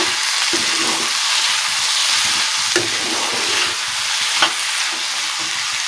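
Banana stem curry with spices being stirred and fried in hot oil, a steady sizzle running throughout with occasional scraping clicks from the spoon.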